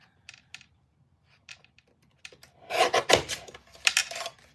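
A Tim Holtz cutting tool slices through heavy 110 cardstock, giving a few faint clicks and then a louder rasping cut of scraping strokes close by. Nobody speaks.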